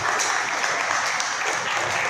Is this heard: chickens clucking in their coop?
no